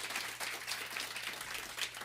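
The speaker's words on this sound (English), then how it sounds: "That deserves a round of applause." A small studio audience claps for a few seconds at a live radio studio session, a quiet, even patter of hands with no voices over it.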